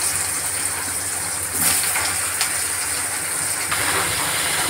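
Sliced ridge gourd hitting hot oil with dried red chillies, a loud continuous sizzling hiss with bursts of crackle as pieces land and settle.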